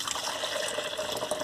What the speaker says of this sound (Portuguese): A gente vai colocar aqui 500 ml para a gente dissolver o nosso sabão ralado